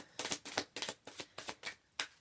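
A deck of tarot cards being shuffled, about seven quick crisp riffles in an even rhythm, soft and close with no voices.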